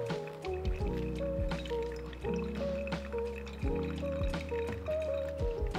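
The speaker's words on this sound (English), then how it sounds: "We're just waiting for all the water to go down." Brewed coffee drains through a Kalita pour-over dripper in soft, steady trickles and drips, quiet and close, with a faint tonal hum running underneath.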